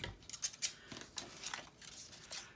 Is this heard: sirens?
no